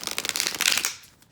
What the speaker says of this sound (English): Hold on, I'm going to do a super shuffle.